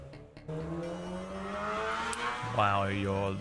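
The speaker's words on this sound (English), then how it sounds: "no one needs a vehicle that sounds that loud" A loud car engine revving, a steady droning roar that rises in pitch and swells louder toward the end, with a voice talking over it.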